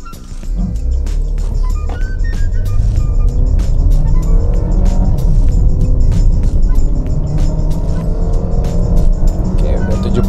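A 2016 Suzuki S-Cross in D gear accelerates steadily, its engine note rising under loud road and wind noise with frequent clicks and knocks from inside the cabin.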